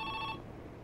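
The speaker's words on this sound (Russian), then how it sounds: "вот смотрите, как телефон громко-то реально звонит" Telephone ringing in the Joe's Diner video game, a bright electronic ring that sounds briefly and loudly, then cuts off into a faint background hum.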